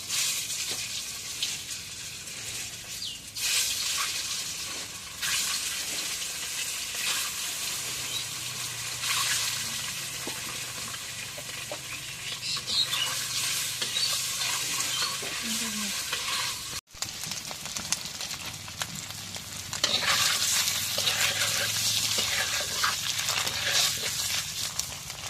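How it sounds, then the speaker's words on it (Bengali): Eggs frying in a pan with a little turmeric, a loud, continuous close sizzle with stirring scrapes throughout and a brief drop near the middle before the hiss resumes. "তো যখন ডিমগুলো ভাজা হয়ে গেছে, এখন নামাই দিই।"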